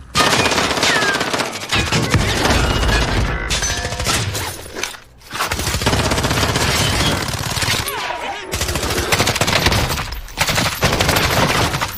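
Machine gun fire in Call of Duty Warzone: loud, sustained automatic bursts with booming reports that fill nearly the whole stretch, dropping out only briefly twice, with game noise around them.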